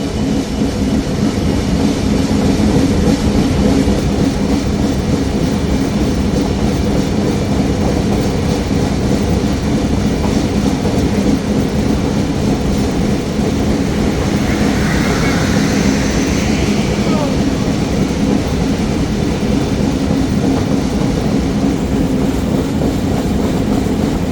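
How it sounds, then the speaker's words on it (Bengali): The Banalata Express from Dhaka to Rajshahi runs on its tracks through a wide curve in light drizzle, producing a loud, continuous rumbling roar with steady track noise from start to finish. "ট্রেনটি কিন্তু বিশাল একটি কার্ভ নিয়ে থ্রুপাস যাবে"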